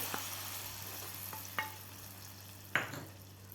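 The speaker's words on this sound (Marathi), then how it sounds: "आता आपण हा तडका बनवलेला यामध्ये घालून घेऊया." Hot tadka tempering is poured into South Indian sambar and stirred, making a soft, faint sizzling hiss with a couple of brief splashy bursts partway through and no talking.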